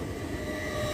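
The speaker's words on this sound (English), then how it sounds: "Now arriving on platform 4 is an LNER service to Wakefield Westgate." An LNER Azuma, unit 800107, runs into a platform at Doncaster station with a steady, loud rolling rumble of wheels and carriages close by and no voices over it.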